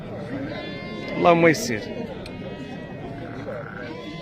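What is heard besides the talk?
sheep bleating at a livestock market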